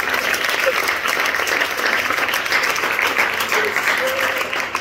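A church congregation claps steadily throughout a blessing prayer, dense continuous applause with crowd noise and voices mixed in, filling the room at an even, loud level.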